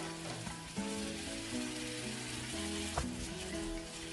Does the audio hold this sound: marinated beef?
yes